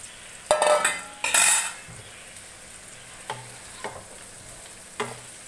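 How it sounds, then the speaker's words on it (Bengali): Fried paneer is stirred into a sizzling spice mix in a pan, with a few brisk scraping strokes close by, then quieter, sparse taps and light sizzling. "একটু নাড়িয়ে চাড়িয়ে নেব।"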